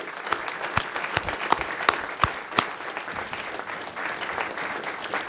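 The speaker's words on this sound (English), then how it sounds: "Let's just give a round of applause for Dr. Aaron Johnson." Applause from a smaller audience at a city council meeting: individual sharp claps stand out over a softer spread of hand-clapping, steady for several seconds in an indoor chamber.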